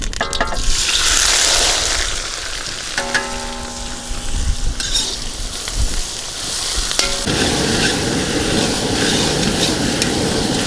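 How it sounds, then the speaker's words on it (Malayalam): Onions sizzle in hot oil with spices in a pan on the stove. The frying hiss is steady and close throughout, with scraping from stirring and a few short clinks. "ഉള്ളി നന്നായി വണങ്ങി വന്നിട്ടുണ്ട്"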